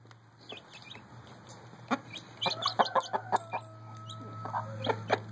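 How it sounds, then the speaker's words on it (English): Small chicks and chickens cluck and peep nearby in a quiet setting, with scattered soft calls that grow busier and more overlapping toward the end. "Of chickens? Yeah, little chicklets."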